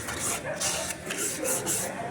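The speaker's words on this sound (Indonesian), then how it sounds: "Lalu di sini kita bersihkan tromol menggunakan amplas" Rhythmic abrasive rasping strokes, about five back-and-forth passes of sandpaper on a vehicle brake drum during servicing, close and steady.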